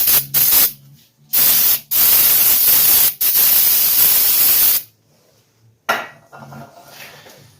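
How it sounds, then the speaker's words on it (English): Several loud, close bursts of brake cleaner spray hiss in long pulses separated by short pauses, then a final shorter spray, while cleaning the front brakes of a Ford Ranger. "where the brake cleaner will come in handy, and spray that down real good"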